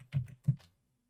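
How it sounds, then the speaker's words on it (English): Two quick bursts of keystrokes as numbers are typed on a computer keyboard, close and fairly quiet, followed by silence. "Actually, I'm just typing in 334."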